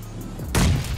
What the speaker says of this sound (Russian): Взорвал